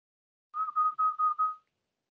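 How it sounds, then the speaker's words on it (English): Five short whistled notes form a quick, evenly spaced run on one pitch, made with the tongue kept off the lower teeth. The whistling is clear and close, with silence before and after. "You first got to learn how to whistle with your tongue not touching your lower teeth."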